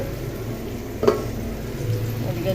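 Bitter gourd frying in a pan in a home kitchen, a steady low sizzle with one sharp utensil clink partway through, close by and fairly loud.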